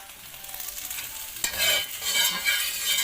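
Chillies being stirred and dry-roasted in a pan make a steady hiss with scraping stirs, and the sizzle grows louder after a sharp clatter near the midpoint. The sound is close, with no voices.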